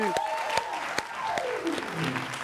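An audience at a live entertainment show applauds with dense, steady clapping that carries on throughout at moderate volume.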